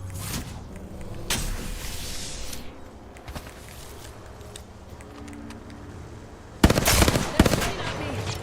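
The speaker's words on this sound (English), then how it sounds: "They're shooting at me." Gunfire in the Apex Legends battle royale shooter: scattered distant shots and short bursts, then a sudden loud close volley near the end, with muffled game sounds and speech in between.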